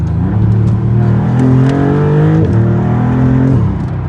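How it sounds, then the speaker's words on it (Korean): A Maserati MC20 Cielo V6 supercar engine revs hard, its exhaust rising to a loud roar, dropping briefly, then revving again before easing off. "이렇게 바꾸고 나면은 일단 배기음도 더 커지고요"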